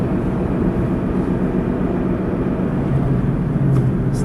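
A 2013 Ford Mustang GT CS with its 5-liter V8 droning loudly and steadily from inside the cabin while cruising, a dense low rumble that holds constant throughout with no voices.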